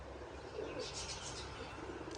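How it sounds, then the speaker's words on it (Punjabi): A pigeon coos softly at close range in a short low rolling call, faint against a quiet background hum. "ਦੇਖੋ ਵੀ ਕਿਵੇਂ ਗੁੜਕਦਾ ਕਬੂਤਰ"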